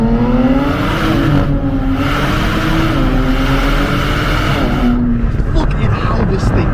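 A 400 HP Nissan Z accelerates hard, its engine note climbing loud and close with rising and shifting tones, a brief dip between gears and road roar underneath.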